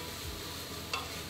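Onion frying quietly with vegeta seasoning mix, a soft continuous sizzle and simmer heard close but faint, with one brief clink partway through and no talking.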